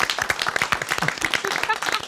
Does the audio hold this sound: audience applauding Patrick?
yes